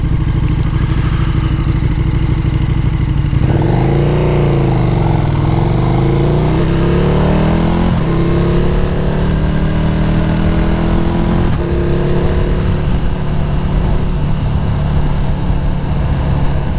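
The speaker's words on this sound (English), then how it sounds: "does have the full titanium Akrapovic exhaust" A 2022 KTM 1290 Super Duke R Evo with a full titanium Akrapovic exhaust roars loudly and steadily close by, its engine note rising and falling through several revs and gear changes.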